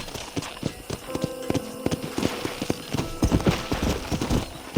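Hooves clop rapidly and rhythmically on hard ground, a horse moving at a brisk pace close by in the video game Red Dead Redemption, with faint background sound and no talking.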